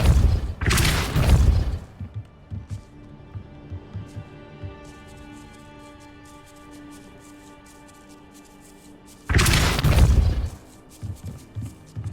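A Depulso spell cast in Hogwarts Legacy lands as a loud, broad whooshing blast, followed by a quiet stretch of soft ambient tones before a second forceful burst near the end.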